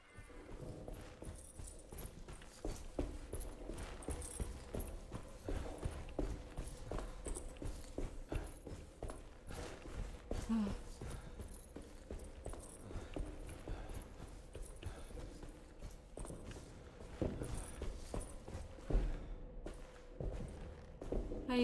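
Footsteps thud in the Alone in the Dark video game, a steady run of repeated hard steps with a clip-clop quality across a dim, busy ambient background.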